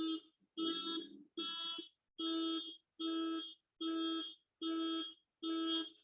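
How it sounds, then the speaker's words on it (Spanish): A neighbor's alarm sounds through a window, eight evenly spaced electronic tones, each held for about half a second, clear and fairly loud with no talk over them. "Ya me cierro la ventana porque mi vecino se le botó la alarma."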